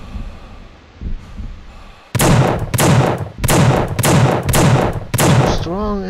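Gunshots in the video game The Suffering: five heavy, booming shots about half a second apart ring out loud and close after a quieter lead-in, with a brief warbling tone at the end.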